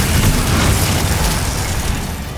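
A heavy, booming blast from the Confringo spell in the Hogwarts Legacy video game roars loudly and continuously for a couple of seconds, then fades slightly toward the end.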